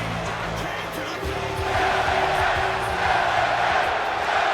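A Portland, Oregon arena crowd cheers for wrestler LA Knight in the WWE 2K24 video game, a dense roar of voices that swells louder partway through, mixed with a low rhythmic musical bed.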